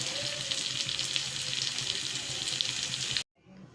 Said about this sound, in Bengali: চিকেন কষানো শেষ, জল দিয়ে দেবো।